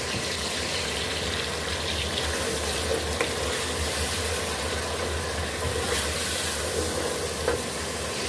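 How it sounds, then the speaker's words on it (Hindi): Water poured into a sizzling chicken pulao mixture in a pan on the stove, giving a steady hiss and bubbling with a faint stirring scrape, close and continuous throughout, no voices. "थोड़ा सा इसमें हम पानी ऐड कर लेंगे।"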